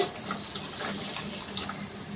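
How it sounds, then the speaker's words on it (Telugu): Water pours steadily into a pot of dal with chopped onion, a continuous splashing rush heard close and fairly loud with no one talking. "ఇప్పుడు వాటర్ పోసుకోవాలి."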